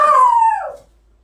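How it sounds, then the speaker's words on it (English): A single drawn-out dog howl or whine, loud and close, sliding downward in pitch and fading after about a second, heard alone in a kitchen setting. "Yes, my dog's barking."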